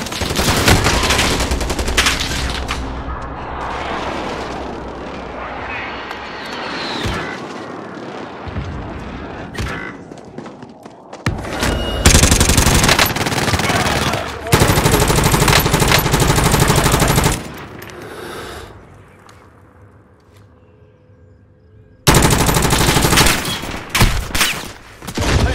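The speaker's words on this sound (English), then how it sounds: "Enemy precision airstrike." Heavy bursts of explosive gunfire and blasts from an enemy precision airstrike in a war video game, loud and repeated in dense clusters with brief lulls between them.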